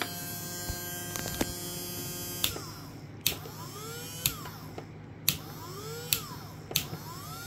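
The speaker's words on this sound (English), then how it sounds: "This thing's running a motor, no problem." A small electric motor powered by a ringer circuit runs with a steady electrical hum and sweeping tones, broken by sharp periodic clicks.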